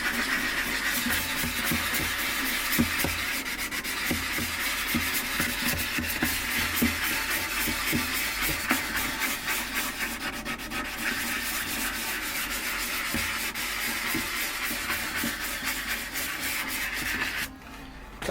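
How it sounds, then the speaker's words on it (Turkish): Wood is sanded by hand with a cork sanding block in long, steady back-and-forth rasping strokes, close and even throughout, with no talking, and the rubbing stops abruptly at the very end. "zımpara takozlarımızı mümkünse mantar kullanalım arkadaşlar"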